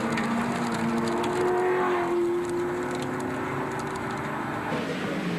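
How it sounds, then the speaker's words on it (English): Race car engine at the 1987 Bathurst 1000, likely a Commodore, droning steadily with a rising and falling pitch as the car coasts and revs, fairly loud and continuous with no voices. "You can hear the noise coming out of the car."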